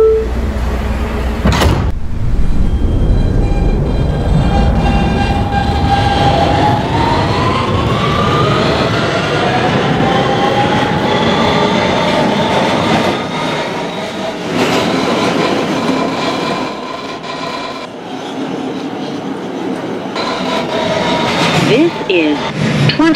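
An R160B Siemens subway train runs on the BMT Broadway Line in a Roblox game, its motor whine rising in pitch as it accelerates over a loud, continuous rumble with track clicks, while announcements sound over it.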